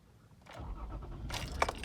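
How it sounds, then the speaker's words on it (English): A car engine cranks and catches, a low rumble rising out of quieter clatter with a sharp jingle near the end, close by and with no talk. "We're going to fire the car up"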